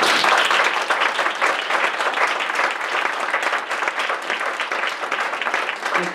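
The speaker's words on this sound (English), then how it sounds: "And let's give Jim a great hand." Loud, dense clapping from an audience at a CEO Connect event rolls on without pause, a close, energetic wash of many hands that barely dips over several seconds.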